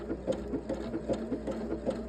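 A sewing machine stitches rows on a beginner's first sewing project, running slowly with a steady, even mechanical rhythm of repeated needle strokes, close and continuous.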